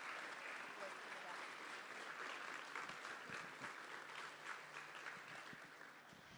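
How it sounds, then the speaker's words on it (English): Steady applause from an audience at a sixth-grade school awards ceremony, dense clapping that holds evenly throughout and tapers slightly at the end, with a faint voice underneath. "Please give these Pride Award winners another round of applause"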